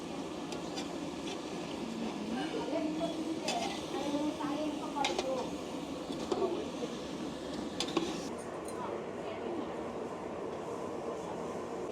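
Mysore-style mutton chops with salt sauté in a pan, giving a steady low sizzle broken by intermittent scraping clinks as the meat is stirred.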